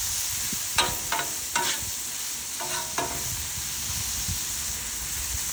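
Vegetables sauteing for fried rice in a pan, a steady loud sizzle and hiss with several sharp scrapes and clatters of stirring near the start, close up.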